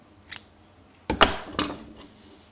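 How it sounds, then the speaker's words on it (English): Scissors cut yarn during crochet work: one light snip, then a pause and two sharper, louder close snips a fraction of a second apart, in an otherwise quiet room. "here we can also cut the yarn"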